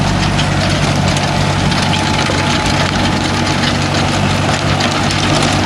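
A Mahindra Arjun Novo 605 DI tractor engine runs at a steady, loud diesel throb, close by and unbroken, with a constant low rumble and no talking.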